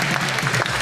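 Short burst of applause from a small studio audience during a talk-show interview, a dense steady patter of hands lasting under a second.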